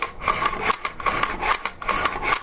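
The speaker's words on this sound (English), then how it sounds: "running the bolt back and forth" Repeated scraping, sliding metallic strokes of a Remington 700 LTR .223 rifle bolt cycling back and forth in a steady rhythm, close and moderately loud with no talking.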